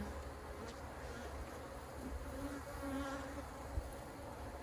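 Honeybees buzzing steadily around an open hive, a soft continuous hum with faint passing drones, fairly quiet and without speech.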